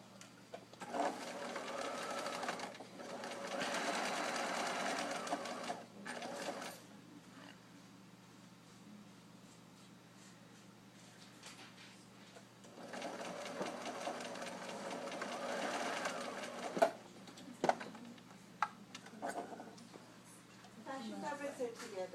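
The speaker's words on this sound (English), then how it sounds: "I'm just going to go ahead and stitch each of these up at that 1/2 inch with my standard stitch length and my back stitch." A sewing machine stitches a fabric seam at standard stitch length with back stitching, two bursts of steady whirring of several seconds each separated by a quiet pause, with a few small clicks near the end.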